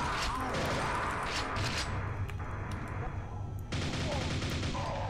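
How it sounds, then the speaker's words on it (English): Rapid nail gun fire in Quake: Scourge of Armagon, a dense, continuous stream of metallic shots with mechanical clatter, loud and close, pausing briefly before resuming. "The regular Nail Gun will more than suffice."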